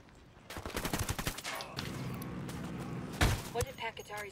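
Rapid bursts of turret gunfire in Ghost Recon Wildlands, a loud, dense rattle of automatic shots followed by a sustained rumble, with a voice talking over it.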